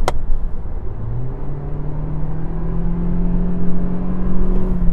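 A Toyota Prius hybrid engine drones steadily with a rising, moaning, mooing tone as it accelerates, loud and continuous with a low rumble underneath.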